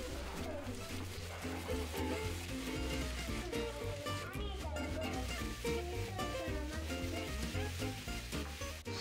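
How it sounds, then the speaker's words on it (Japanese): Pilaf ingredients sizzle in a pan as they are sautéed in a home kitchen, a steady crackling fry with stirring and scraping, with children and an adult talking softly behind it. "ピラフの具材を炒めます。"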